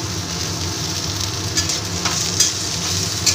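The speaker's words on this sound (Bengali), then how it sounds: "আলুগুলো এবার একটু ভেজে নেব।" Diced potatoes fry in a pan with onions in a steady, close hiss of oil, with a few brief crackles and stirring clinks.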